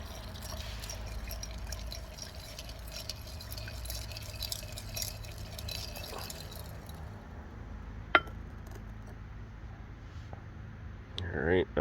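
Scrap 10k gold sits in acid in a glass container while it is stirred, giving soft clinks and swishing liquid sounds with occasional sharper taps against the glass, close but faint, under a low background hum.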